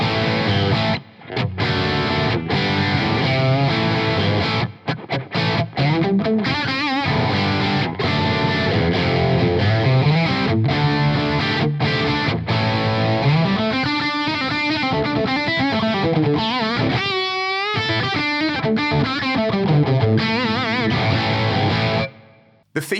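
Electric guitar played through a Two Notes Torpedo Captor X+ with plate reverb added, a sustained, distorted riff with gliding bends and a lingering reverb tail, loud and continuous for about twenty seconds before stopping abruptly.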